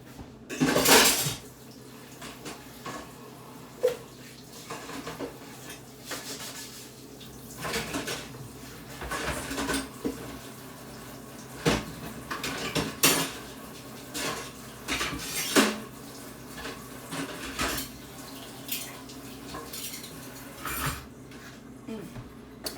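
Dishes and cutlery are washed under running water in a home kitchen, with intermittent clinks, clatters and splashes close by and a loud burst of clattering at the start.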